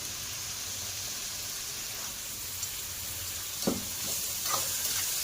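Mushrooms and potatoes frying in a pan with coriander powder and salt, a steady close sizzle throughout with a few brief stirring scrapes and clicks near the end, no talking.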